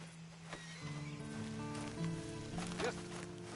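A horse neighs in the video game Red Dead Online, a fairly faint whinny with a tonal, wavering cry heard against soft rain and background music.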